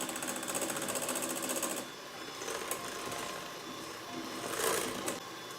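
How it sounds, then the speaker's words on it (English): An electric mixer beats meringue as sugar is added, a constant close whirring drone that shifts slightly in pitch partway through, with light clattering of the beaters against the bowl and no talk. "It takes a long time to beat meringue"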